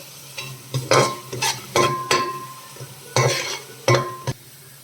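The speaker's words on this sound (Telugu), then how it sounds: "కొంచెం కరివేపాకు వేసుకుంటున్నా అండి" Curry leaves crackle and spit in hot oil for a Telugu fish, raw mango and okra pulusu, with several sharp bursts of sizzling and stirring clatter close up, spaced irregularly over a low steady fry.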